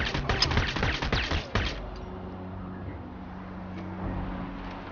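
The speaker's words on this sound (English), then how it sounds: "I can even try to shoot that over there on the Humvee" Burst of rapid gunfire aimed at a Humvee in the Crysis video game, loud and dense over the first two seconds, then cutting off to a low ambient rumble.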